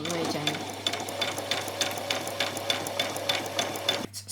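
A sewing machine back stitches a skirt placket in rapid, regular needle strokes, close and steady before stopping abruptly near the end, with a soft voice talking underneath.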